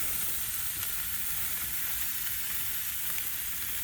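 Lightly salted steaks sizzle on a BBQ grill, a dense, even crackling hiss that holds steady and close throughout, with no one speaking.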